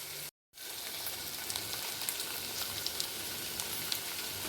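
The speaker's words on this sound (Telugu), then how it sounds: "ఇట్లా క్యారెట్, బీన్స్, పచ్చిమిర్చి వేసుకొని కొంచెం బాగా ఫ్రై కావాలి" Carrots, beans and green chillies frying in a pan, giving a continuous even sizzle with faint crackles throughout, apart from a short silent gap near the start.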